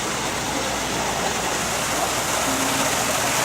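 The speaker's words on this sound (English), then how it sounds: "You go behind the waterfall and get the pot of gold." Waterfall at Busch Gardens Williamsburg, with water pouring down in a steady, dense rushing hiss that holds even and unbroken from start to finish.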